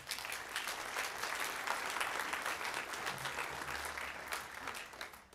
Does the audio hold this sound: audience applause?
yes